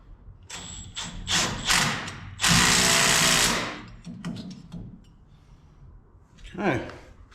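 A ratchet turning a universal socket on a brake bolt during a rear disc brake conversion on a C10 truck, with a few short bursts of clicking and one longer, louder run of steady ratcheting, near and close.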